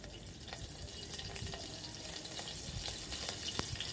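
Green chillies fry in oil in a pan, giving a faint, steady sizzling hiss scattered with small crackles and pops.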